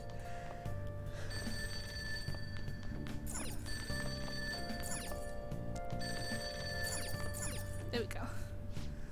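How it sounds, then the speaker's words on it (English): A telephone rings downstairs in a house in the video game Persona 5 Royal, its repeated bell-like trills sounding over game music and ambient tones, with speech present. "that ringing sound isn't coming from my cell phone. I hear it coming from downstairs."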